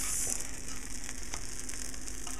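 Fruit pancakes with blackberries and strawberries frying in a pan, a loud, close, steady sizzle with faint crackles throughout, no talking.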